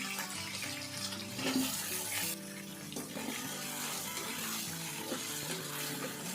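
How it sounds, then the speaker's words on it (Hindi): Potatoes and chicken fry in a pot for a biryani, giving a steady, dense sizzle and hiss that runs throughout, louder in the first two seconds, with a faint tonal background. "यहाँ पे तकरीबन 2 से 3 मिनट हो गए हैं आलू और चिकन को फ्राई करते हुए"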